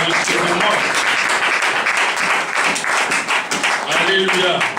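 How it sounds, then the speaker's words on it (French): A church congregation applauding at a French-language service in acclamation of the word of God, with dense sustained clapping that fills the space and voices mixed in. "Acclame pour la parole de Dieu"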